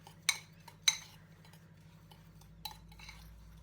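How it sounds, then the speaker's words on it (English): A utensil stirs chocolate pudding cake topping in a dish, with two sharp clinks near the start, then softer scraping and a later tap, close and fairly quiet. "I'm just mixing it around, just one more."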